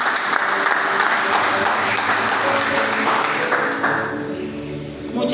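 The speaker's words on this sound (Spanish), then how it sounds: "Denle un aplauso allí al Señor," A church congregation applauds during a prayer service, a full wash of clapping that thins and fades toward the end, with faint sustained tones and some talk underneath.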